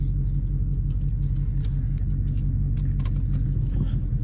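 A steady, low engine rumble from a nearby Dodge Charger Scat Pack, continuous and unbroken, with no voices.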